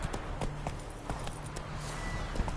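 Roach, a horse in The Witcher 3, trots with steady clip-clop hoofbeats on ground, a continuous rhythmic patter close by and moderately loud with a faint low hum beneath.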